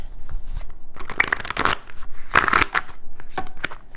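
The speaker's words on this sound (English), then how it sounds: "I'm going to shuffle 4 decks" Several tarot card decks being shuffled, bursts of crisp riffling and flicking cards in uneven clusters, close and clear with no talking.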